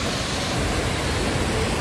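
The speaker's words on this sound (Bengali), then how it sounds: "দশম ফলটা দেখাচ্ছি জাস্ট দেখো" Dassam Falls in Jharkhand, swollen by monsoon flood water, makes a dense, unbroken roar that fills the whole short stretch at an even loudness.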